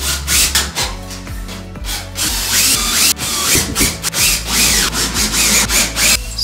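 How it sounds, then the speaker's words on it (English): A drill drives screws into Durock cement board for a shower install, producing loud whirring motor bursts that rise and stop repeatedly, with grinding as each screw bites into the board, close up. "And then start screwing it in."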